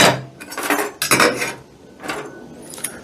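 Metal rotisserie skewers clink and rattle against a skewer rack in a few bright, close bursts of jangling, separated by short quiet gaps.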